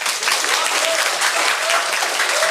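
An audience at a school youth forum in Pyeongtaek gives steady, full applause for a student, a dense continuous clapping that fills the hall.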